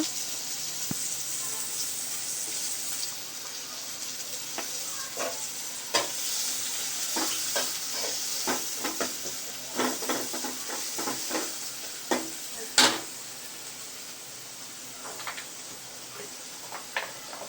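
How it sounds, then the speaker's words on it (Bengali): Onions fry and sizzle in a pan, with a steady hiss broken by many sharp scraping and tapping stirs of a spatula, close and fairly quiet, and no speech. "এখন জাস্ট পেঁয়াজটা ভাজা হবে।"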